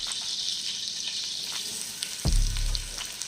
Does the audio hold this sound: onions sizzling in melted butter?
yes